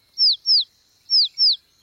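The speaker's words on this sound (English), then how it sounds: "Usually the mummy bird comes when her baby calls. But it's not chirping loud enough." A cartoon baby bird chirps four short, high, downward-sliding peeps in two quick pairs separated by a brief pause, clear and alone.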